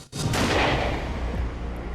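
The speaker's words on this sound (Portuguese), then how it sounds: "o som de um tiro tira a calma em Vila Geralda" One loud, sharp gunshot cracks at the start, then a long rumbling echo decays through the rest, with no voices.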